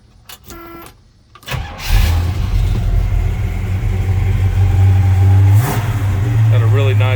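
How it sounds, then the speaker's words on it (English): A 1968 Olds Cutlass S with a 350 Rocket V8 turns over and fires, then idles with a deep, throbbing exhaust note, swelling in a quick rev before settling, heard up close. "Got a really nice exhaust note."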